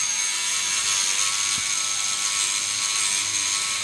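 A Rubbermaid power scrubber runs continuously against grime, a steady high mechanical whir with a faint ratcheting rattle, close and alone.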